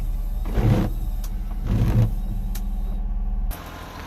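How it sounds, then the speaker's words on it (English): Windshield wipers on a low-mileage 4WD Honda Acty truck make two distinct motor-driven sweeps, each a short whirring burst, over a steady low idle rumble close by. "And we'll test the wiper blades."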